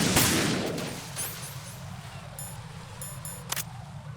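Gunshots from guards being shot in Metal Gear Solid 2, a sharp opening blast followed by a few lighter clicks and one more crack near the end, over a steady low game rumble.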